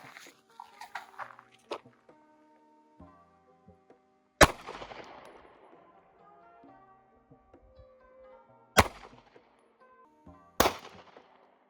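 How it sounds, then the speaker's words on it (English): Three sharp 9mm pistol shots fired at a 3A+ ballistic helmet ring out at irregular intervals, each a loud broadband crack with a brief decaying tail, after scattered faint handling clatter and quiet background noise. "Next up on our list is we're going to be shooting it with 9mm."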